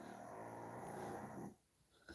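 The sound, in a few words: pug dog snoring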